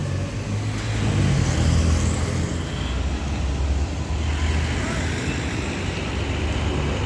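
A Sinar Jaya executive Legres 32-seat bus pulls into a crowded terminal during holiday peak travel, a loud continuous engine rumble mixed with broad roadway noise, steady throughout with no distinct voices.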